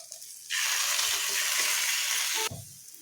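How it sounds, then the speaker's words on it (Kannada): Masala chapati roasting in oil on a hot pan, a steady loud sizzle that starts abruptly and holds for about two seconds before cutting off, with quieter kitchen noise on either side. "ಮತ್ತು ಈ ಸೈಡೂ ಎಣ್ಣೆ ಹಚ್ಕೊಳ್ಳೋಣ. ಈಗ ಚಲೋತ್ನಂಗೆ 2 ಸೈಡು ಬೇಯಿಸ್ಕೊಳ್ಳೋಣ."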